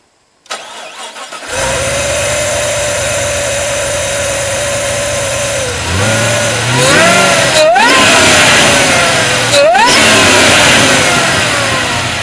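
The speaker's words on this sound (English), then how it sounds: "give it a couple of decent revs to listen to this intake" A supercharged LS1 V8 engine in a Holden One Tonner cranks and catches, settles into a steady idle, then revs up sharply twice with rising and falling pitch, intake noise loud and close.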